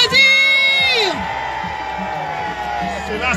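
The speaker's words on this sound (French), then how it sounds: "Est-ce qu'on peut l'applaudir?" Audience cheering and whooping at a foundation evening event, loud voices in the crowd that rise at the start and then ease into a lower, sustained hubbub with scattered shouts.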